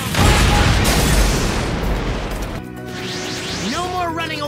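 A fire style jutsu explosion from the Naruto anime erupts as a loud, rumbling boom for a couple of seconds, then fades as voices and bright tonal effects take over.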